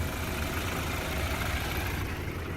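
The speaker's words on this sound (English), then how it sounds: "now that the vehicle's running" A 2013 BMW X3 xDrive28i sits idling, its engine giving a steady low hum and smooth rumble at an even level, close by, with no one talking over it.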